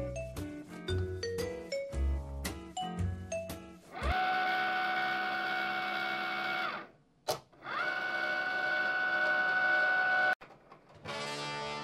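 A Cricut cutting machine works on sticker sheets, giving a few rhythmic mechanical clicks and then long, steady motor whirs broken by brief pauses, heard close with no talking.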